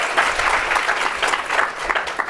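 An audience at a 2023 International Women's Day celebration claps in a steady, moderately loud round of applause that fills the short stretch, with only faint voices beneath.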